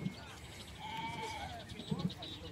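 Sheep bleat at a livestock fair in Paraíba, Brazil, one bleat early on and a couple of close, short bleats near the end, amid a murmur of people talking and haggling over prices.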